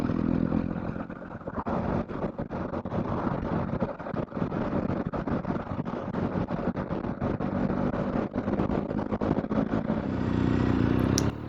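BMW R1250 GSA 40th anniversary motorcycle on the road, a steady engine drone mixed with rushing wind buffeting that runs continuously and fairly loud throughout, with no voices.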